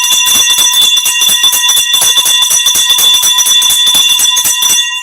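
A new bell rings loud and near in a rapid, steady series of metallic strikes, each hit blending into a sustained ringing tone, continuing for several seconds before stopping abruptly.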